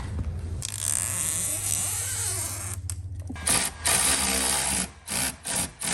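A power tool drives screws into a performance body kit on a BMW X5 M50 G05. It gives a steady, close buzzing run of a few seconds, then several short, sharp bursts with brief gaps between them.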